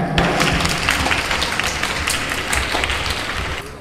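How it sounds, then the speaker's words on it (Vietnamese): A congregation of a Catholic youth group gives a loud, sustained round of clapping during a Holy Thursday Mass at Tân Phú parish. The dense clatter continues almost without a break and eases off only at the very end. "cho bạn một tràng pháo tay"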